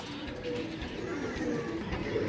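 Pigeons coo close by in soft, repeated low throaty calls, with someone talking over them.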